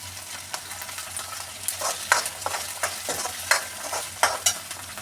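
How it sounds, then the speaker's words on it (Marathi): Fenugreek leaves are sautéed in a pan, a soft frying hiss under repeated scraping stirs from a spoon, about one or two strokes a second, close and without talk. "आता कडूपणा निघण्यासाठी आपण 5-1 मिनिटं चांगलं परतून घेऊ"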